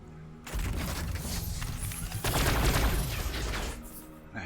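Gunfire rattles through a Warhammer 40000 Battlesector multiplayer match between Blood Angels, a dense rolling barrage of rapid shots and booms that swells midway before easing off.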